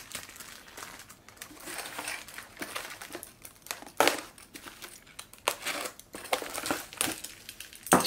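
Racing pedal packaging is slashed open and handled, giving irregular crinkling, rustling and crushing noises with a few sharper snaps, close by and fairly quiet, without speech.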